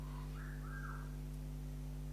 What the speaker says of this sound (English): there's a minor bird and he's just whistled, like wolf whistle